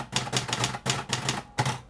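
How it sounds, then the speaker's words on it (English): Keys strike on a manual typewriter as a word is retyped, a close series of about eight crisp clacks in quick uneven bursts with short pauses. "I just have to retype the word"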